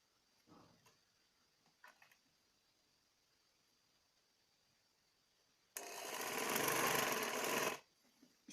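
A sewing machine stitching a folded hem on a peplum outfit, running in one steady, loud whirring burst of about two seconds, after a few faint handling taps.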